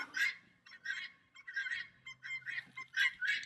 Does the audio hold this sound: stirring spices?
no